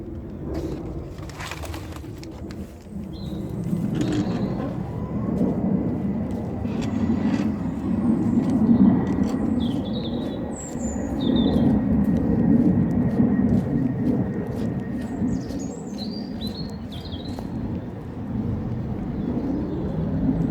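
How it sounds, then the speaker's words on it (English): A low, continuous rumble of a plane on the Heathrow flight path passing overhead swells and fades, with scattered birds chirping above it in the foreground. "we're under the Heathrow flight path, so you get planes roaring overhead."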